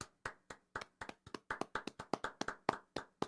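Hands clap sharply about fifteen times in a steady, slightly quickening rhythm, each crisp slap close and clear with brief silence between, no voices.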